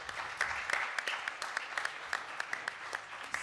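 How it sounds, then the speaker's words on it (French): An audience at a lecture on globalization and employment applauds, a fairly faint, sparse patter of claps with a few sharper individual slaps, no speech over it. "Merci Flora, on peut applaudir."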